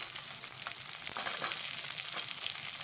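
Large-cut onions fry in a pan for a soyabean chilli dish, giving a soft, even sizzle with light crackles that stays faint throughout, with no speech.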